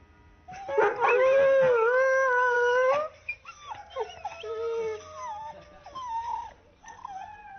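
A leader's dogs let out a loud, sustained howl for a few seconds, then drop into quieter whimpers, yips and wavering cries, close and alone with no talking.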